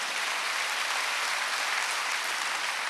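A congregation applauds during a Wednesday worship service at a church, a thick, continuous patter of many hands clapping at an even level without letup.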